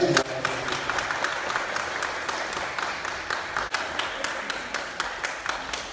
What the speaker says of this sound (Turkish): Misafirlerin alkışlarına şahitlik ederler.